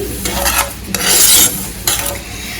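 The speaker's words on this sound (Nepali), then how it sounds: "भुट्न लागिरहेको छु। धेरै भुट्नु चाहिँ हुँदैन है" Masala spices frying in a pan are stirred in loud, close scraping strokes, three bursts of rasping sizzle rising and falling over a few seconds, with no speech.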